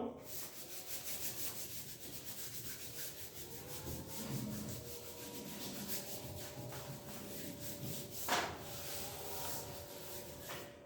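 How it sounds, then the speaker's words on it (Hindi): Close, quiet rubbing, a steady scraping friction that rises and falls in strokes over about ten seconds, with one sharper scuff near the end and no speech. "ये मैं रब कर रहा हूं"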